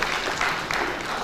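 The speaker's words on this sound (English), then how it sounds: "A round of applause for Mr." An audience at a student economics debate applauds a panel guest, a brief burst of dense clapping that fills the room evenly.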